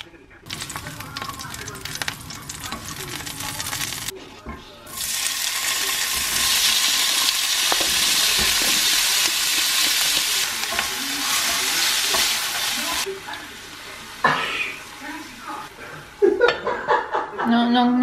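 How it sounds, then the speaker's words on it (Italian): Squid tentacles and fins sauté in a pan where a garlic clove was browned first, a loud steady sizzle with stirring that runs for several seconds, broken by short pauses, with brief chatter and laughter near the end. "taglio tutti i tentacoli e le alette e le salto in padella dove prima ho fatto rosolare uno spicchio d'aglio"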